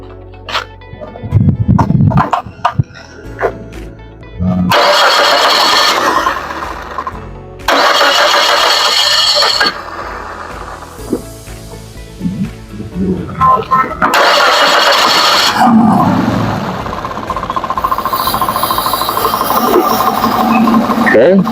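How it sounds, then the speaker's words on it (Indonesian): A fuel-injected car engine is cranked and started several times during an ignition coil check, each start followed by a rough idle, with someone speaking between attempts. "kita nyalakan lagi mesinnya."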